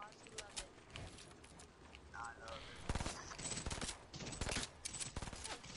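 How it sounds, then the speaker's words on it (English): A FAMAS rifle fires in Fortnite during a stream, with rapid bursts of crackling shots at moderate volume, mixed with game sounds and people talking over it. "I'm here firing with the FAMAS right now."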